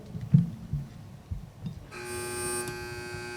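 At a quiz competition match, a few soft thumps, then a steady electronic buzzer tone starts partway through and holds to the end.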